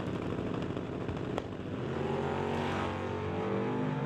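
A drag race car at an NHRA Summit ET series event roaring at the launch line as its tires spin, a loud sustained engine drone with a sharp crack partway through.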